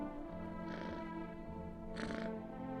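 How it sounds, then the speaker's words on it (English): In the video game No, I'm Not a Human, a petted cat purrs in a steady, close, rumbling drone, with two breathy swells of air over about three seconds and no voices. "I pet the cat."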